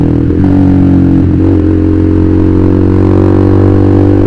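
A Honda CBR150R motorcycle with an open exhaust drones loudly and steadily at close range, a raspy engine note that briefly dips and wavers before settling into a constant hum.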